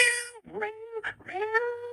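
ChatGPT's synthetic voice imitates several cats meowing at once, drawn-out overlapping mews rising and falling, close and fairly loud.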